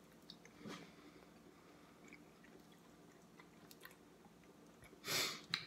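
Someone chewing a bite of cooked duck makes quiet, wet mouth sounds close to the mic, with a louder crunchy bite near the start and a brief burst near the end.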